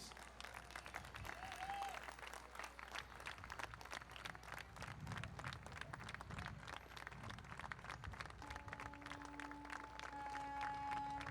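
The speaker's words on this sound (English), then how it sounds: "Another round of applause, please." A crowd at the 60th annual Armed Forces Day Parade in Torrance applauds steadily outdoors, with clapping and crowd noise filling the whole stretch and a few sustained tones sounding near the end.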